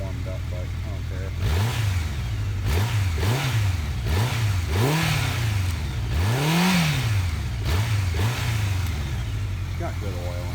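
A Honda motorcycle engine that has not yet warmed up is revved repeatedly, with about seven rising and falling throttle blips. Each one climbs then drops back to a loud, close idle.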